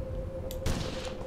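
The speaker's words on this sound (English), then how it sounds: "let's go ahead and shoot this guy" Rifle fire in Mount and Blade: Warband, The Reckoning Mod: a single sharp gunshot cracks about two-thirds of the way through over a steady game hum, preceded by a brief mechanical click.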